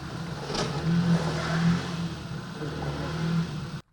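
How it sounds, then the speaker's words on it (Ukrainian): A car revs its engine while sliding on an ice-covered steep lane in Dnipro, where a burst pipe has iced the road; the steady, moderately loud engine drone rises in a few brief pulses, then cuts off abruptly. "Машина дрифтує на кризі, втрачає рівновагу і, врешті, потрапляє в пастку."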